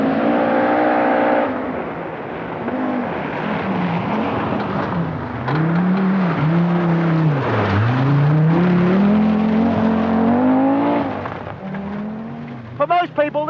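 A rally car driven hard by a driver as Top Gear's entry in the 1984 Lombard RAC Rally, its engine loud and close from inside, rising and falling through gear changes, with a voice talking over it.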